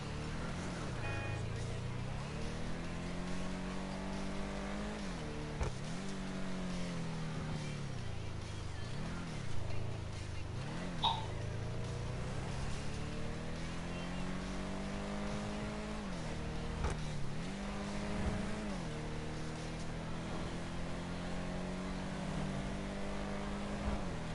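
A G-Wagon driven hard in GTA 5 Online, its engine revving up and dropping back again and again as it shifts, a steady close roar with no break.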